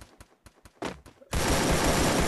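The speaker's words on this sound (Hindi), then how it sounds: "सोचो यार फायरिंग की आवाज़ कहाँ से आ रही है" Gunfire in the battle royale game Free Fire: a few distinct single shots ring out, then a dense, loud burst of rapid automatic fire roars without a break.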